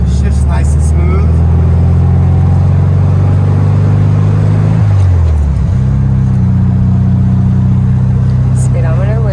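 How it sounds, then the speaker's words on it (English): A 1970 Volkswagen Beetle drives with its engine running loud and close in a steady low drone. The pitch drops around a gear shift midway and then settles, while someone talks over it. "1970 Volkswagen Beetle test drive."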